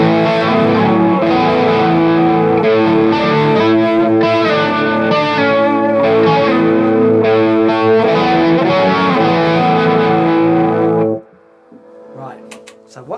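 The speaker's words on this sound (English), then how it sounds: "We're going to hear the chorus going into the overdrive." Electric guitar run through a chorus effect and pushed into overdrive, a thick, shimmering distorted tone playing sustained chords steadily and loud for about eleven seconds before cutting off into quiet decay.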